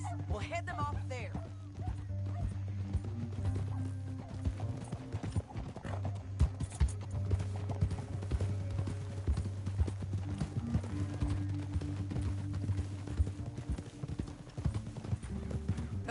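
Horses galloping in Red Dead Redemption 2, rapid rhythmic hoofbeats close by running throughout, with a horse whinny near the start, a low rumbling score underneath and characters talking over it.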